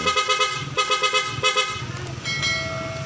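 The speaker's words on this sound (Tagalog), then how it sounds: "Ayan yung kanyang stock horn." A car's stock horn honks in a rapid run of short, loud toots, followed by a steadier blast of the same horn near the end.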